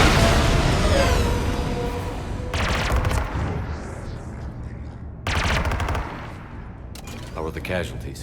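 A mounted gun in Mass Effect 3 fires at hostiles in loud, rapid automatic bursts, with heavy booms and a pause before a second burst.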